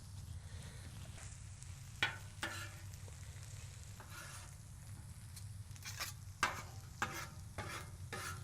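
Chopped garlic frying in hot bacon grease for Mexican street corn, a steady close sizzle under a low hum, broken by a few sharp stirring scrapes and spatters.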